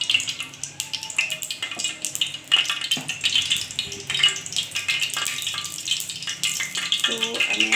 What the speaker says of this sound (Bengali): আমি এখন তেল ঢেলে দিচ্ছি